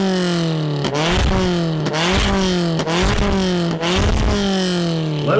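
A Mazda MX-5 NC with an aftermarket exhaust revs repeatedly, each rise in pitch followed by a drop, about five loud, close pulls in quick succession with no talk.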